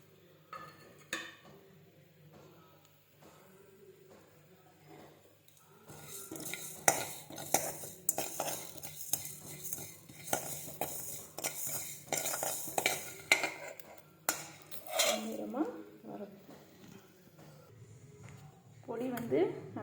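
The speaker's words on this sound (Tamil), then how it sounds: "அதை பொன்னிறமும் வறுத்துக்குவோம்" Ingredients for a green chilli and tamarind mandi are dry-roasted in a pan until golden, with a utensil clattering and scraping in repeated stirs and a faint sizzle, while a voice talks intermittently.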